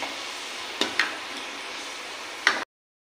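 Khurma sweets fry in hot oil with a steady, even sizzle throughout, broken by a few sharp clicks or taps of a utensil, before cutting off abruptly into silence.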